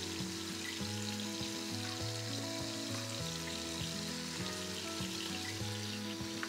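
Turkey necks brown in a hot skillet with a steady, even sizzle and crackle of frying, close and unbroken, with no talking.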